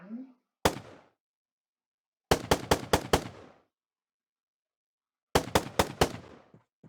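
Gunfire from an ant gun in Minecraft: short bursts of four to five rapid, sharp shots in quick succession, plus one single shot early on, separated by silence and loud and close.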